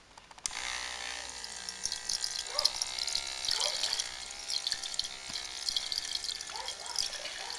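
Water runs from a tap while makeup brushes are washed, a steady splashing flow with small clicks and drips, fairly quiet and close.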